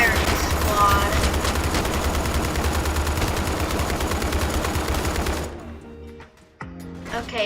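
A firing squad in the video game People Playground unleashes rapid, loud gunfire in a dense volley for about five seconds, then breaks off into a few scattered thuds and clicks.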